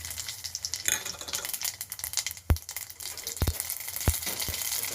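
Cumin and mustard seeds sizzling and crackling in hot oil in a pan, a dense steady fry with a few sharp pops standing out, close and without speech.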